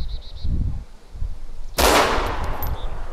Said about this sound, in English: Did you just shoot?